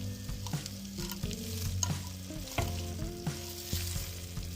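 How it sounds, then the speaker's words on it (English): Pasta is stirred into a sizzling pan of sauce, with crackling frying noise and repeated scraping stir strokes at an uneven rhythm, close, under a steady tonal hum, with no voices. "Now let's add the pasta."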